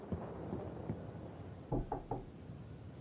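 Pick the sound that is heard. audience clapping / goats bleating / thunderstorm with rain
thunderstorm with rain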